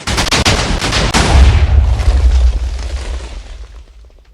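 Video game cannon, a 240 semi-auto, firing a quick string of loud sharp shots that build into a heavy boom, then a long rumbling decay fading over several seconds, with no talking.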